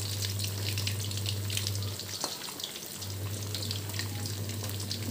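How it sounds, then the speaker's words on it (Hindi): Fish frying in oil in a large kadhai, a steady close sizzle that holds through the whole stretch, with a brief dip and a small stir or clatter partway through. "और मैं अब मच्छी बना रही हूँ, ये बड़े वाली कढ़ाई में मैंने फ्राई कर रही हूँ।"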